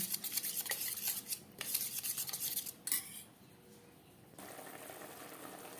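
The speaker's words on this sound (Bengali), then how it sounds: "বেশ ভালো করে দইয়ের সাথে মশলা মিক্সড করে দেবো।" A spoon works spices into yogurt in a bowl for a potato and cauliflower curry, giving quick metallic clinks and scraping for a few seconds before the sound drops to a quiet hiss.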